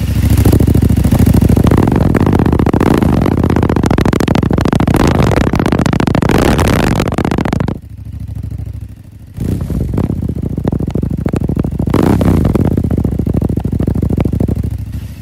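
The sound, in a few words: motorcycle engine revving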